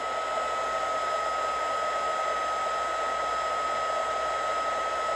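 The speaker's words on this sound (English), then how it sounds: "So just move your embossing tool." A heat embossing tool blows hot air over stamped card, a steady, even electric whir with a fixed high whine, constant and uninterrupted throughout with no talking.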